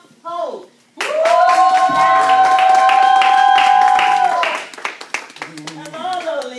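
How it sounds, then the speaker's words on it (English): Audience applause for a guest being welcomed onto a talk show, a loud continuous burst of clapping and cheering that swells, holds for about three seconds, then fades as a host starts speaking. "let us give a round of applause for Ms. Lolita Holt."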